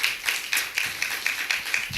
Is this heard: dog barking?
no